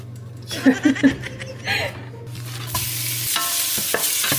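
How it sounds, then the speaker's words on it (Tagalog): Pork frying in a pan until golden brown, a steady sizzle with a few sharp stirring scrapes and a short laugh, followed by a louder burst of frying hiss. "Fry ko muna yung pork hanggang mag-golden brown."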